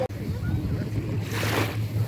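Sea surf rolling onto an Odesa beach on a calm day with clear water, a steady continuous wash of waves close by with some wind noise, no voices.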